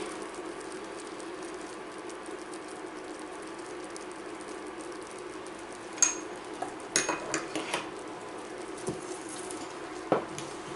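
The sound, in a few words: saucepan lifted off gas stove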